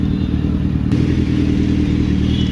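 A motorcycle taxi rides at speed with wind rushing past, its engine droning loud and steady close by, briefly under a faint voice.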